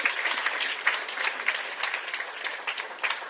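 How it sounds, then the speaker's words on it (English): Audience gives itself a big round of applause at a project event at Connaught, lively continuous clapping with individual claps standing out, moderately loud throughout. "Let's give ourselves a big round of applause."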